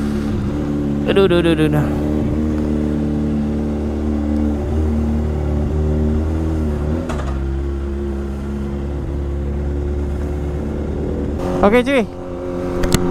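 A Kawasaki ZX25R motorcycle engine idles loudly up close with a steady low rumble, broken by several sharp rising revs, with brief casual talk over it.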